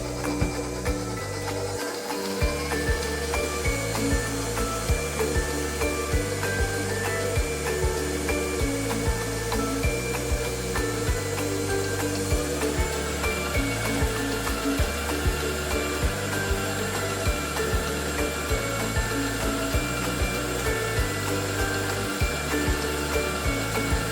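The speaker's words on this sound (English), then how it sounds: "it's really nice to have a mixer to do this" An electric mixer works flour into dough for cinnamon fruit rolls, giving a steady, loud motor whir with a rhythmic churning pulse that runs unbroken for the whole stretch, with no voices.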